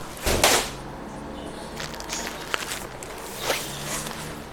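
A soft case for a Mossberg 930 shotgun is unzipped in a few quick, close zipping strokes, the first the loudest, followed by quieter rustling and another brief pull near the end.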